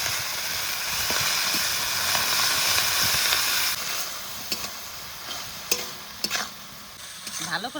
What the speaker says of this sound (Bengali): এবার শাক ভালো করে ভেজে নেব।